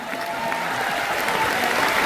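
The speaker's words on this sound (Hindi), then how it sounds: "इसी बात पर तालियां बजा दीजिए आप सभी लोग।" An indoor audience at a speech event for second-generation core leaders claps steadily, a dense wash of applause at moderate distance throughout, with no voices clearly on top.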